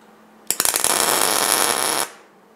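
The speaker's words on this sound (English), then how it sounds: "let's see if we can get a tack up underneath here" A tack weld struck underneath a bolted metal part: a sharp crackling, buzzing arc bursts in close and loud, sputters steadily for about a second and a half, then cuts off abruptly.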